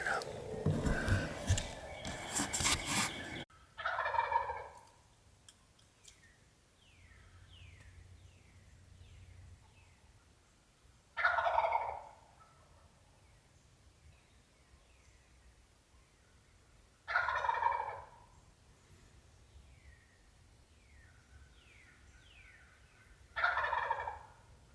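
Wild turkeys gobble from their roost in the woods: four loud, separate bursts spaced several seconds apart over quiet ambience, after a brief rustling, handling noise at the start.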